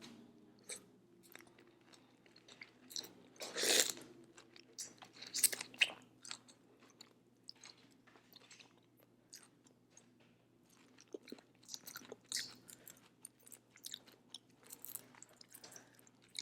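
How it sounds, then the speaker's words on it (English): A Cajun seafood boil shrimp head coated in garlic butter sauce is bitten and chewed up close, giving a sharp crunch followed by scattered wet smacking, crackling and squishy chewing sounds, with no talking. "I'm gonna break it off, eat the head first"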